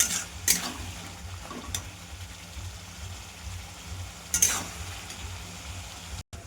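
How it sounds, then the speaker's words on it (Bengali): Spice masala with a pinch of sugar being sautéed for meat curry, a low, continuous frying sizzle with a few sharp spoon scrapes and stirring knocks against the pan, no talking. "এবার ভালো করে কষে নিচ্ছি। যত কষাবো তত খেতে ভালো হবে মাংসটা।"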